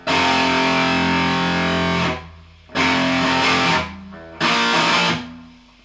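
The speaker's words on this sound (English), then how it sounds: "for this riff you're going to need 4 power chords" A heavily distorted electric guitar hammers out sustained power chords in three bursts, each ringing about a second before cutting off, loud and gritty.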